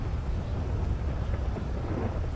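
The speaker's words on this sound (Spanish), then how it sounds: "está lloviendo pero a saco" Heavy rain with thunder in the GTA 5 video game, a steady loud roar of downpour with deep low rumbling throughout, no voices.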